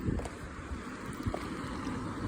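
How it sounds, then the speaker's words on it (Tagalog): Steady, strong wind roars and buffets the microphone throughout on an evening street in Japan, a continuous blustery rush with no voices. "Lakas ng hangin."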